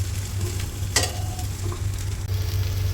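Anchovies and sardines frying in a pan, a steady close sizzle with a low bubbling hum and one brief sharp crackle or clink midway, no voices.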